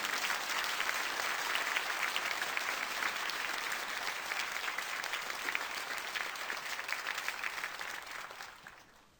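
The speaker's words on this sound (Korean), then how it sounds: "큰 박수로 우리 강사님을 모시도록 하겠습니다" A church congregation at a Holy Week revival service applauds to welcome a guest lecturer, producing sustained, even clapping from many people that holds steady at moderate volume before fading out at the end.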